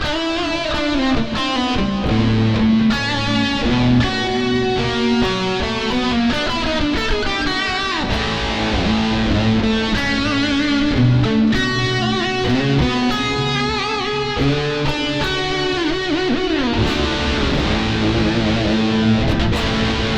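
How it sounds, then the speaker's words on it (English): An electric guitar played through a Boss GT-001 with the Terra Echo effect, sounding as continuous loud chordal and melodic lines with smeared, echoing sustain over the whole passage. "So that's what it sounds like now with the Terra Echo in."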